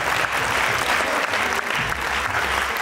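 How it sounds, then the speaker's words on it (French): Sustained, dense audience applause fills a popping dance battle final, steady and loud throughout with a broad wash of clapping and crowd noise. "Je vous demande de les applaudir encore une fois."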